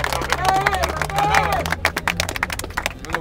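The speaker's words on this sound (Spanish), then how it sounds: "Lo vamos a recibir con un voto de aplauso" A crowd at a campaign rally in a public plaza breaks into dense, crackling applause that swells in the second half, following a voice speaking over a murmuring background.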